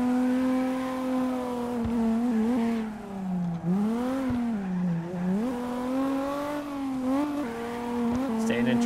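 Racing car engine in CarX Drift Racing held high while drifting through tight turns, pitch sweeping up and down steadily throughout, loud and continuous.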